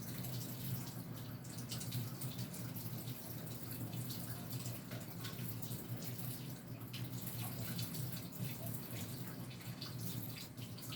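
Water runs steadily from a tap into a kitchen sink, a close, even rushing splash that holds for about eleven seconds with no talking.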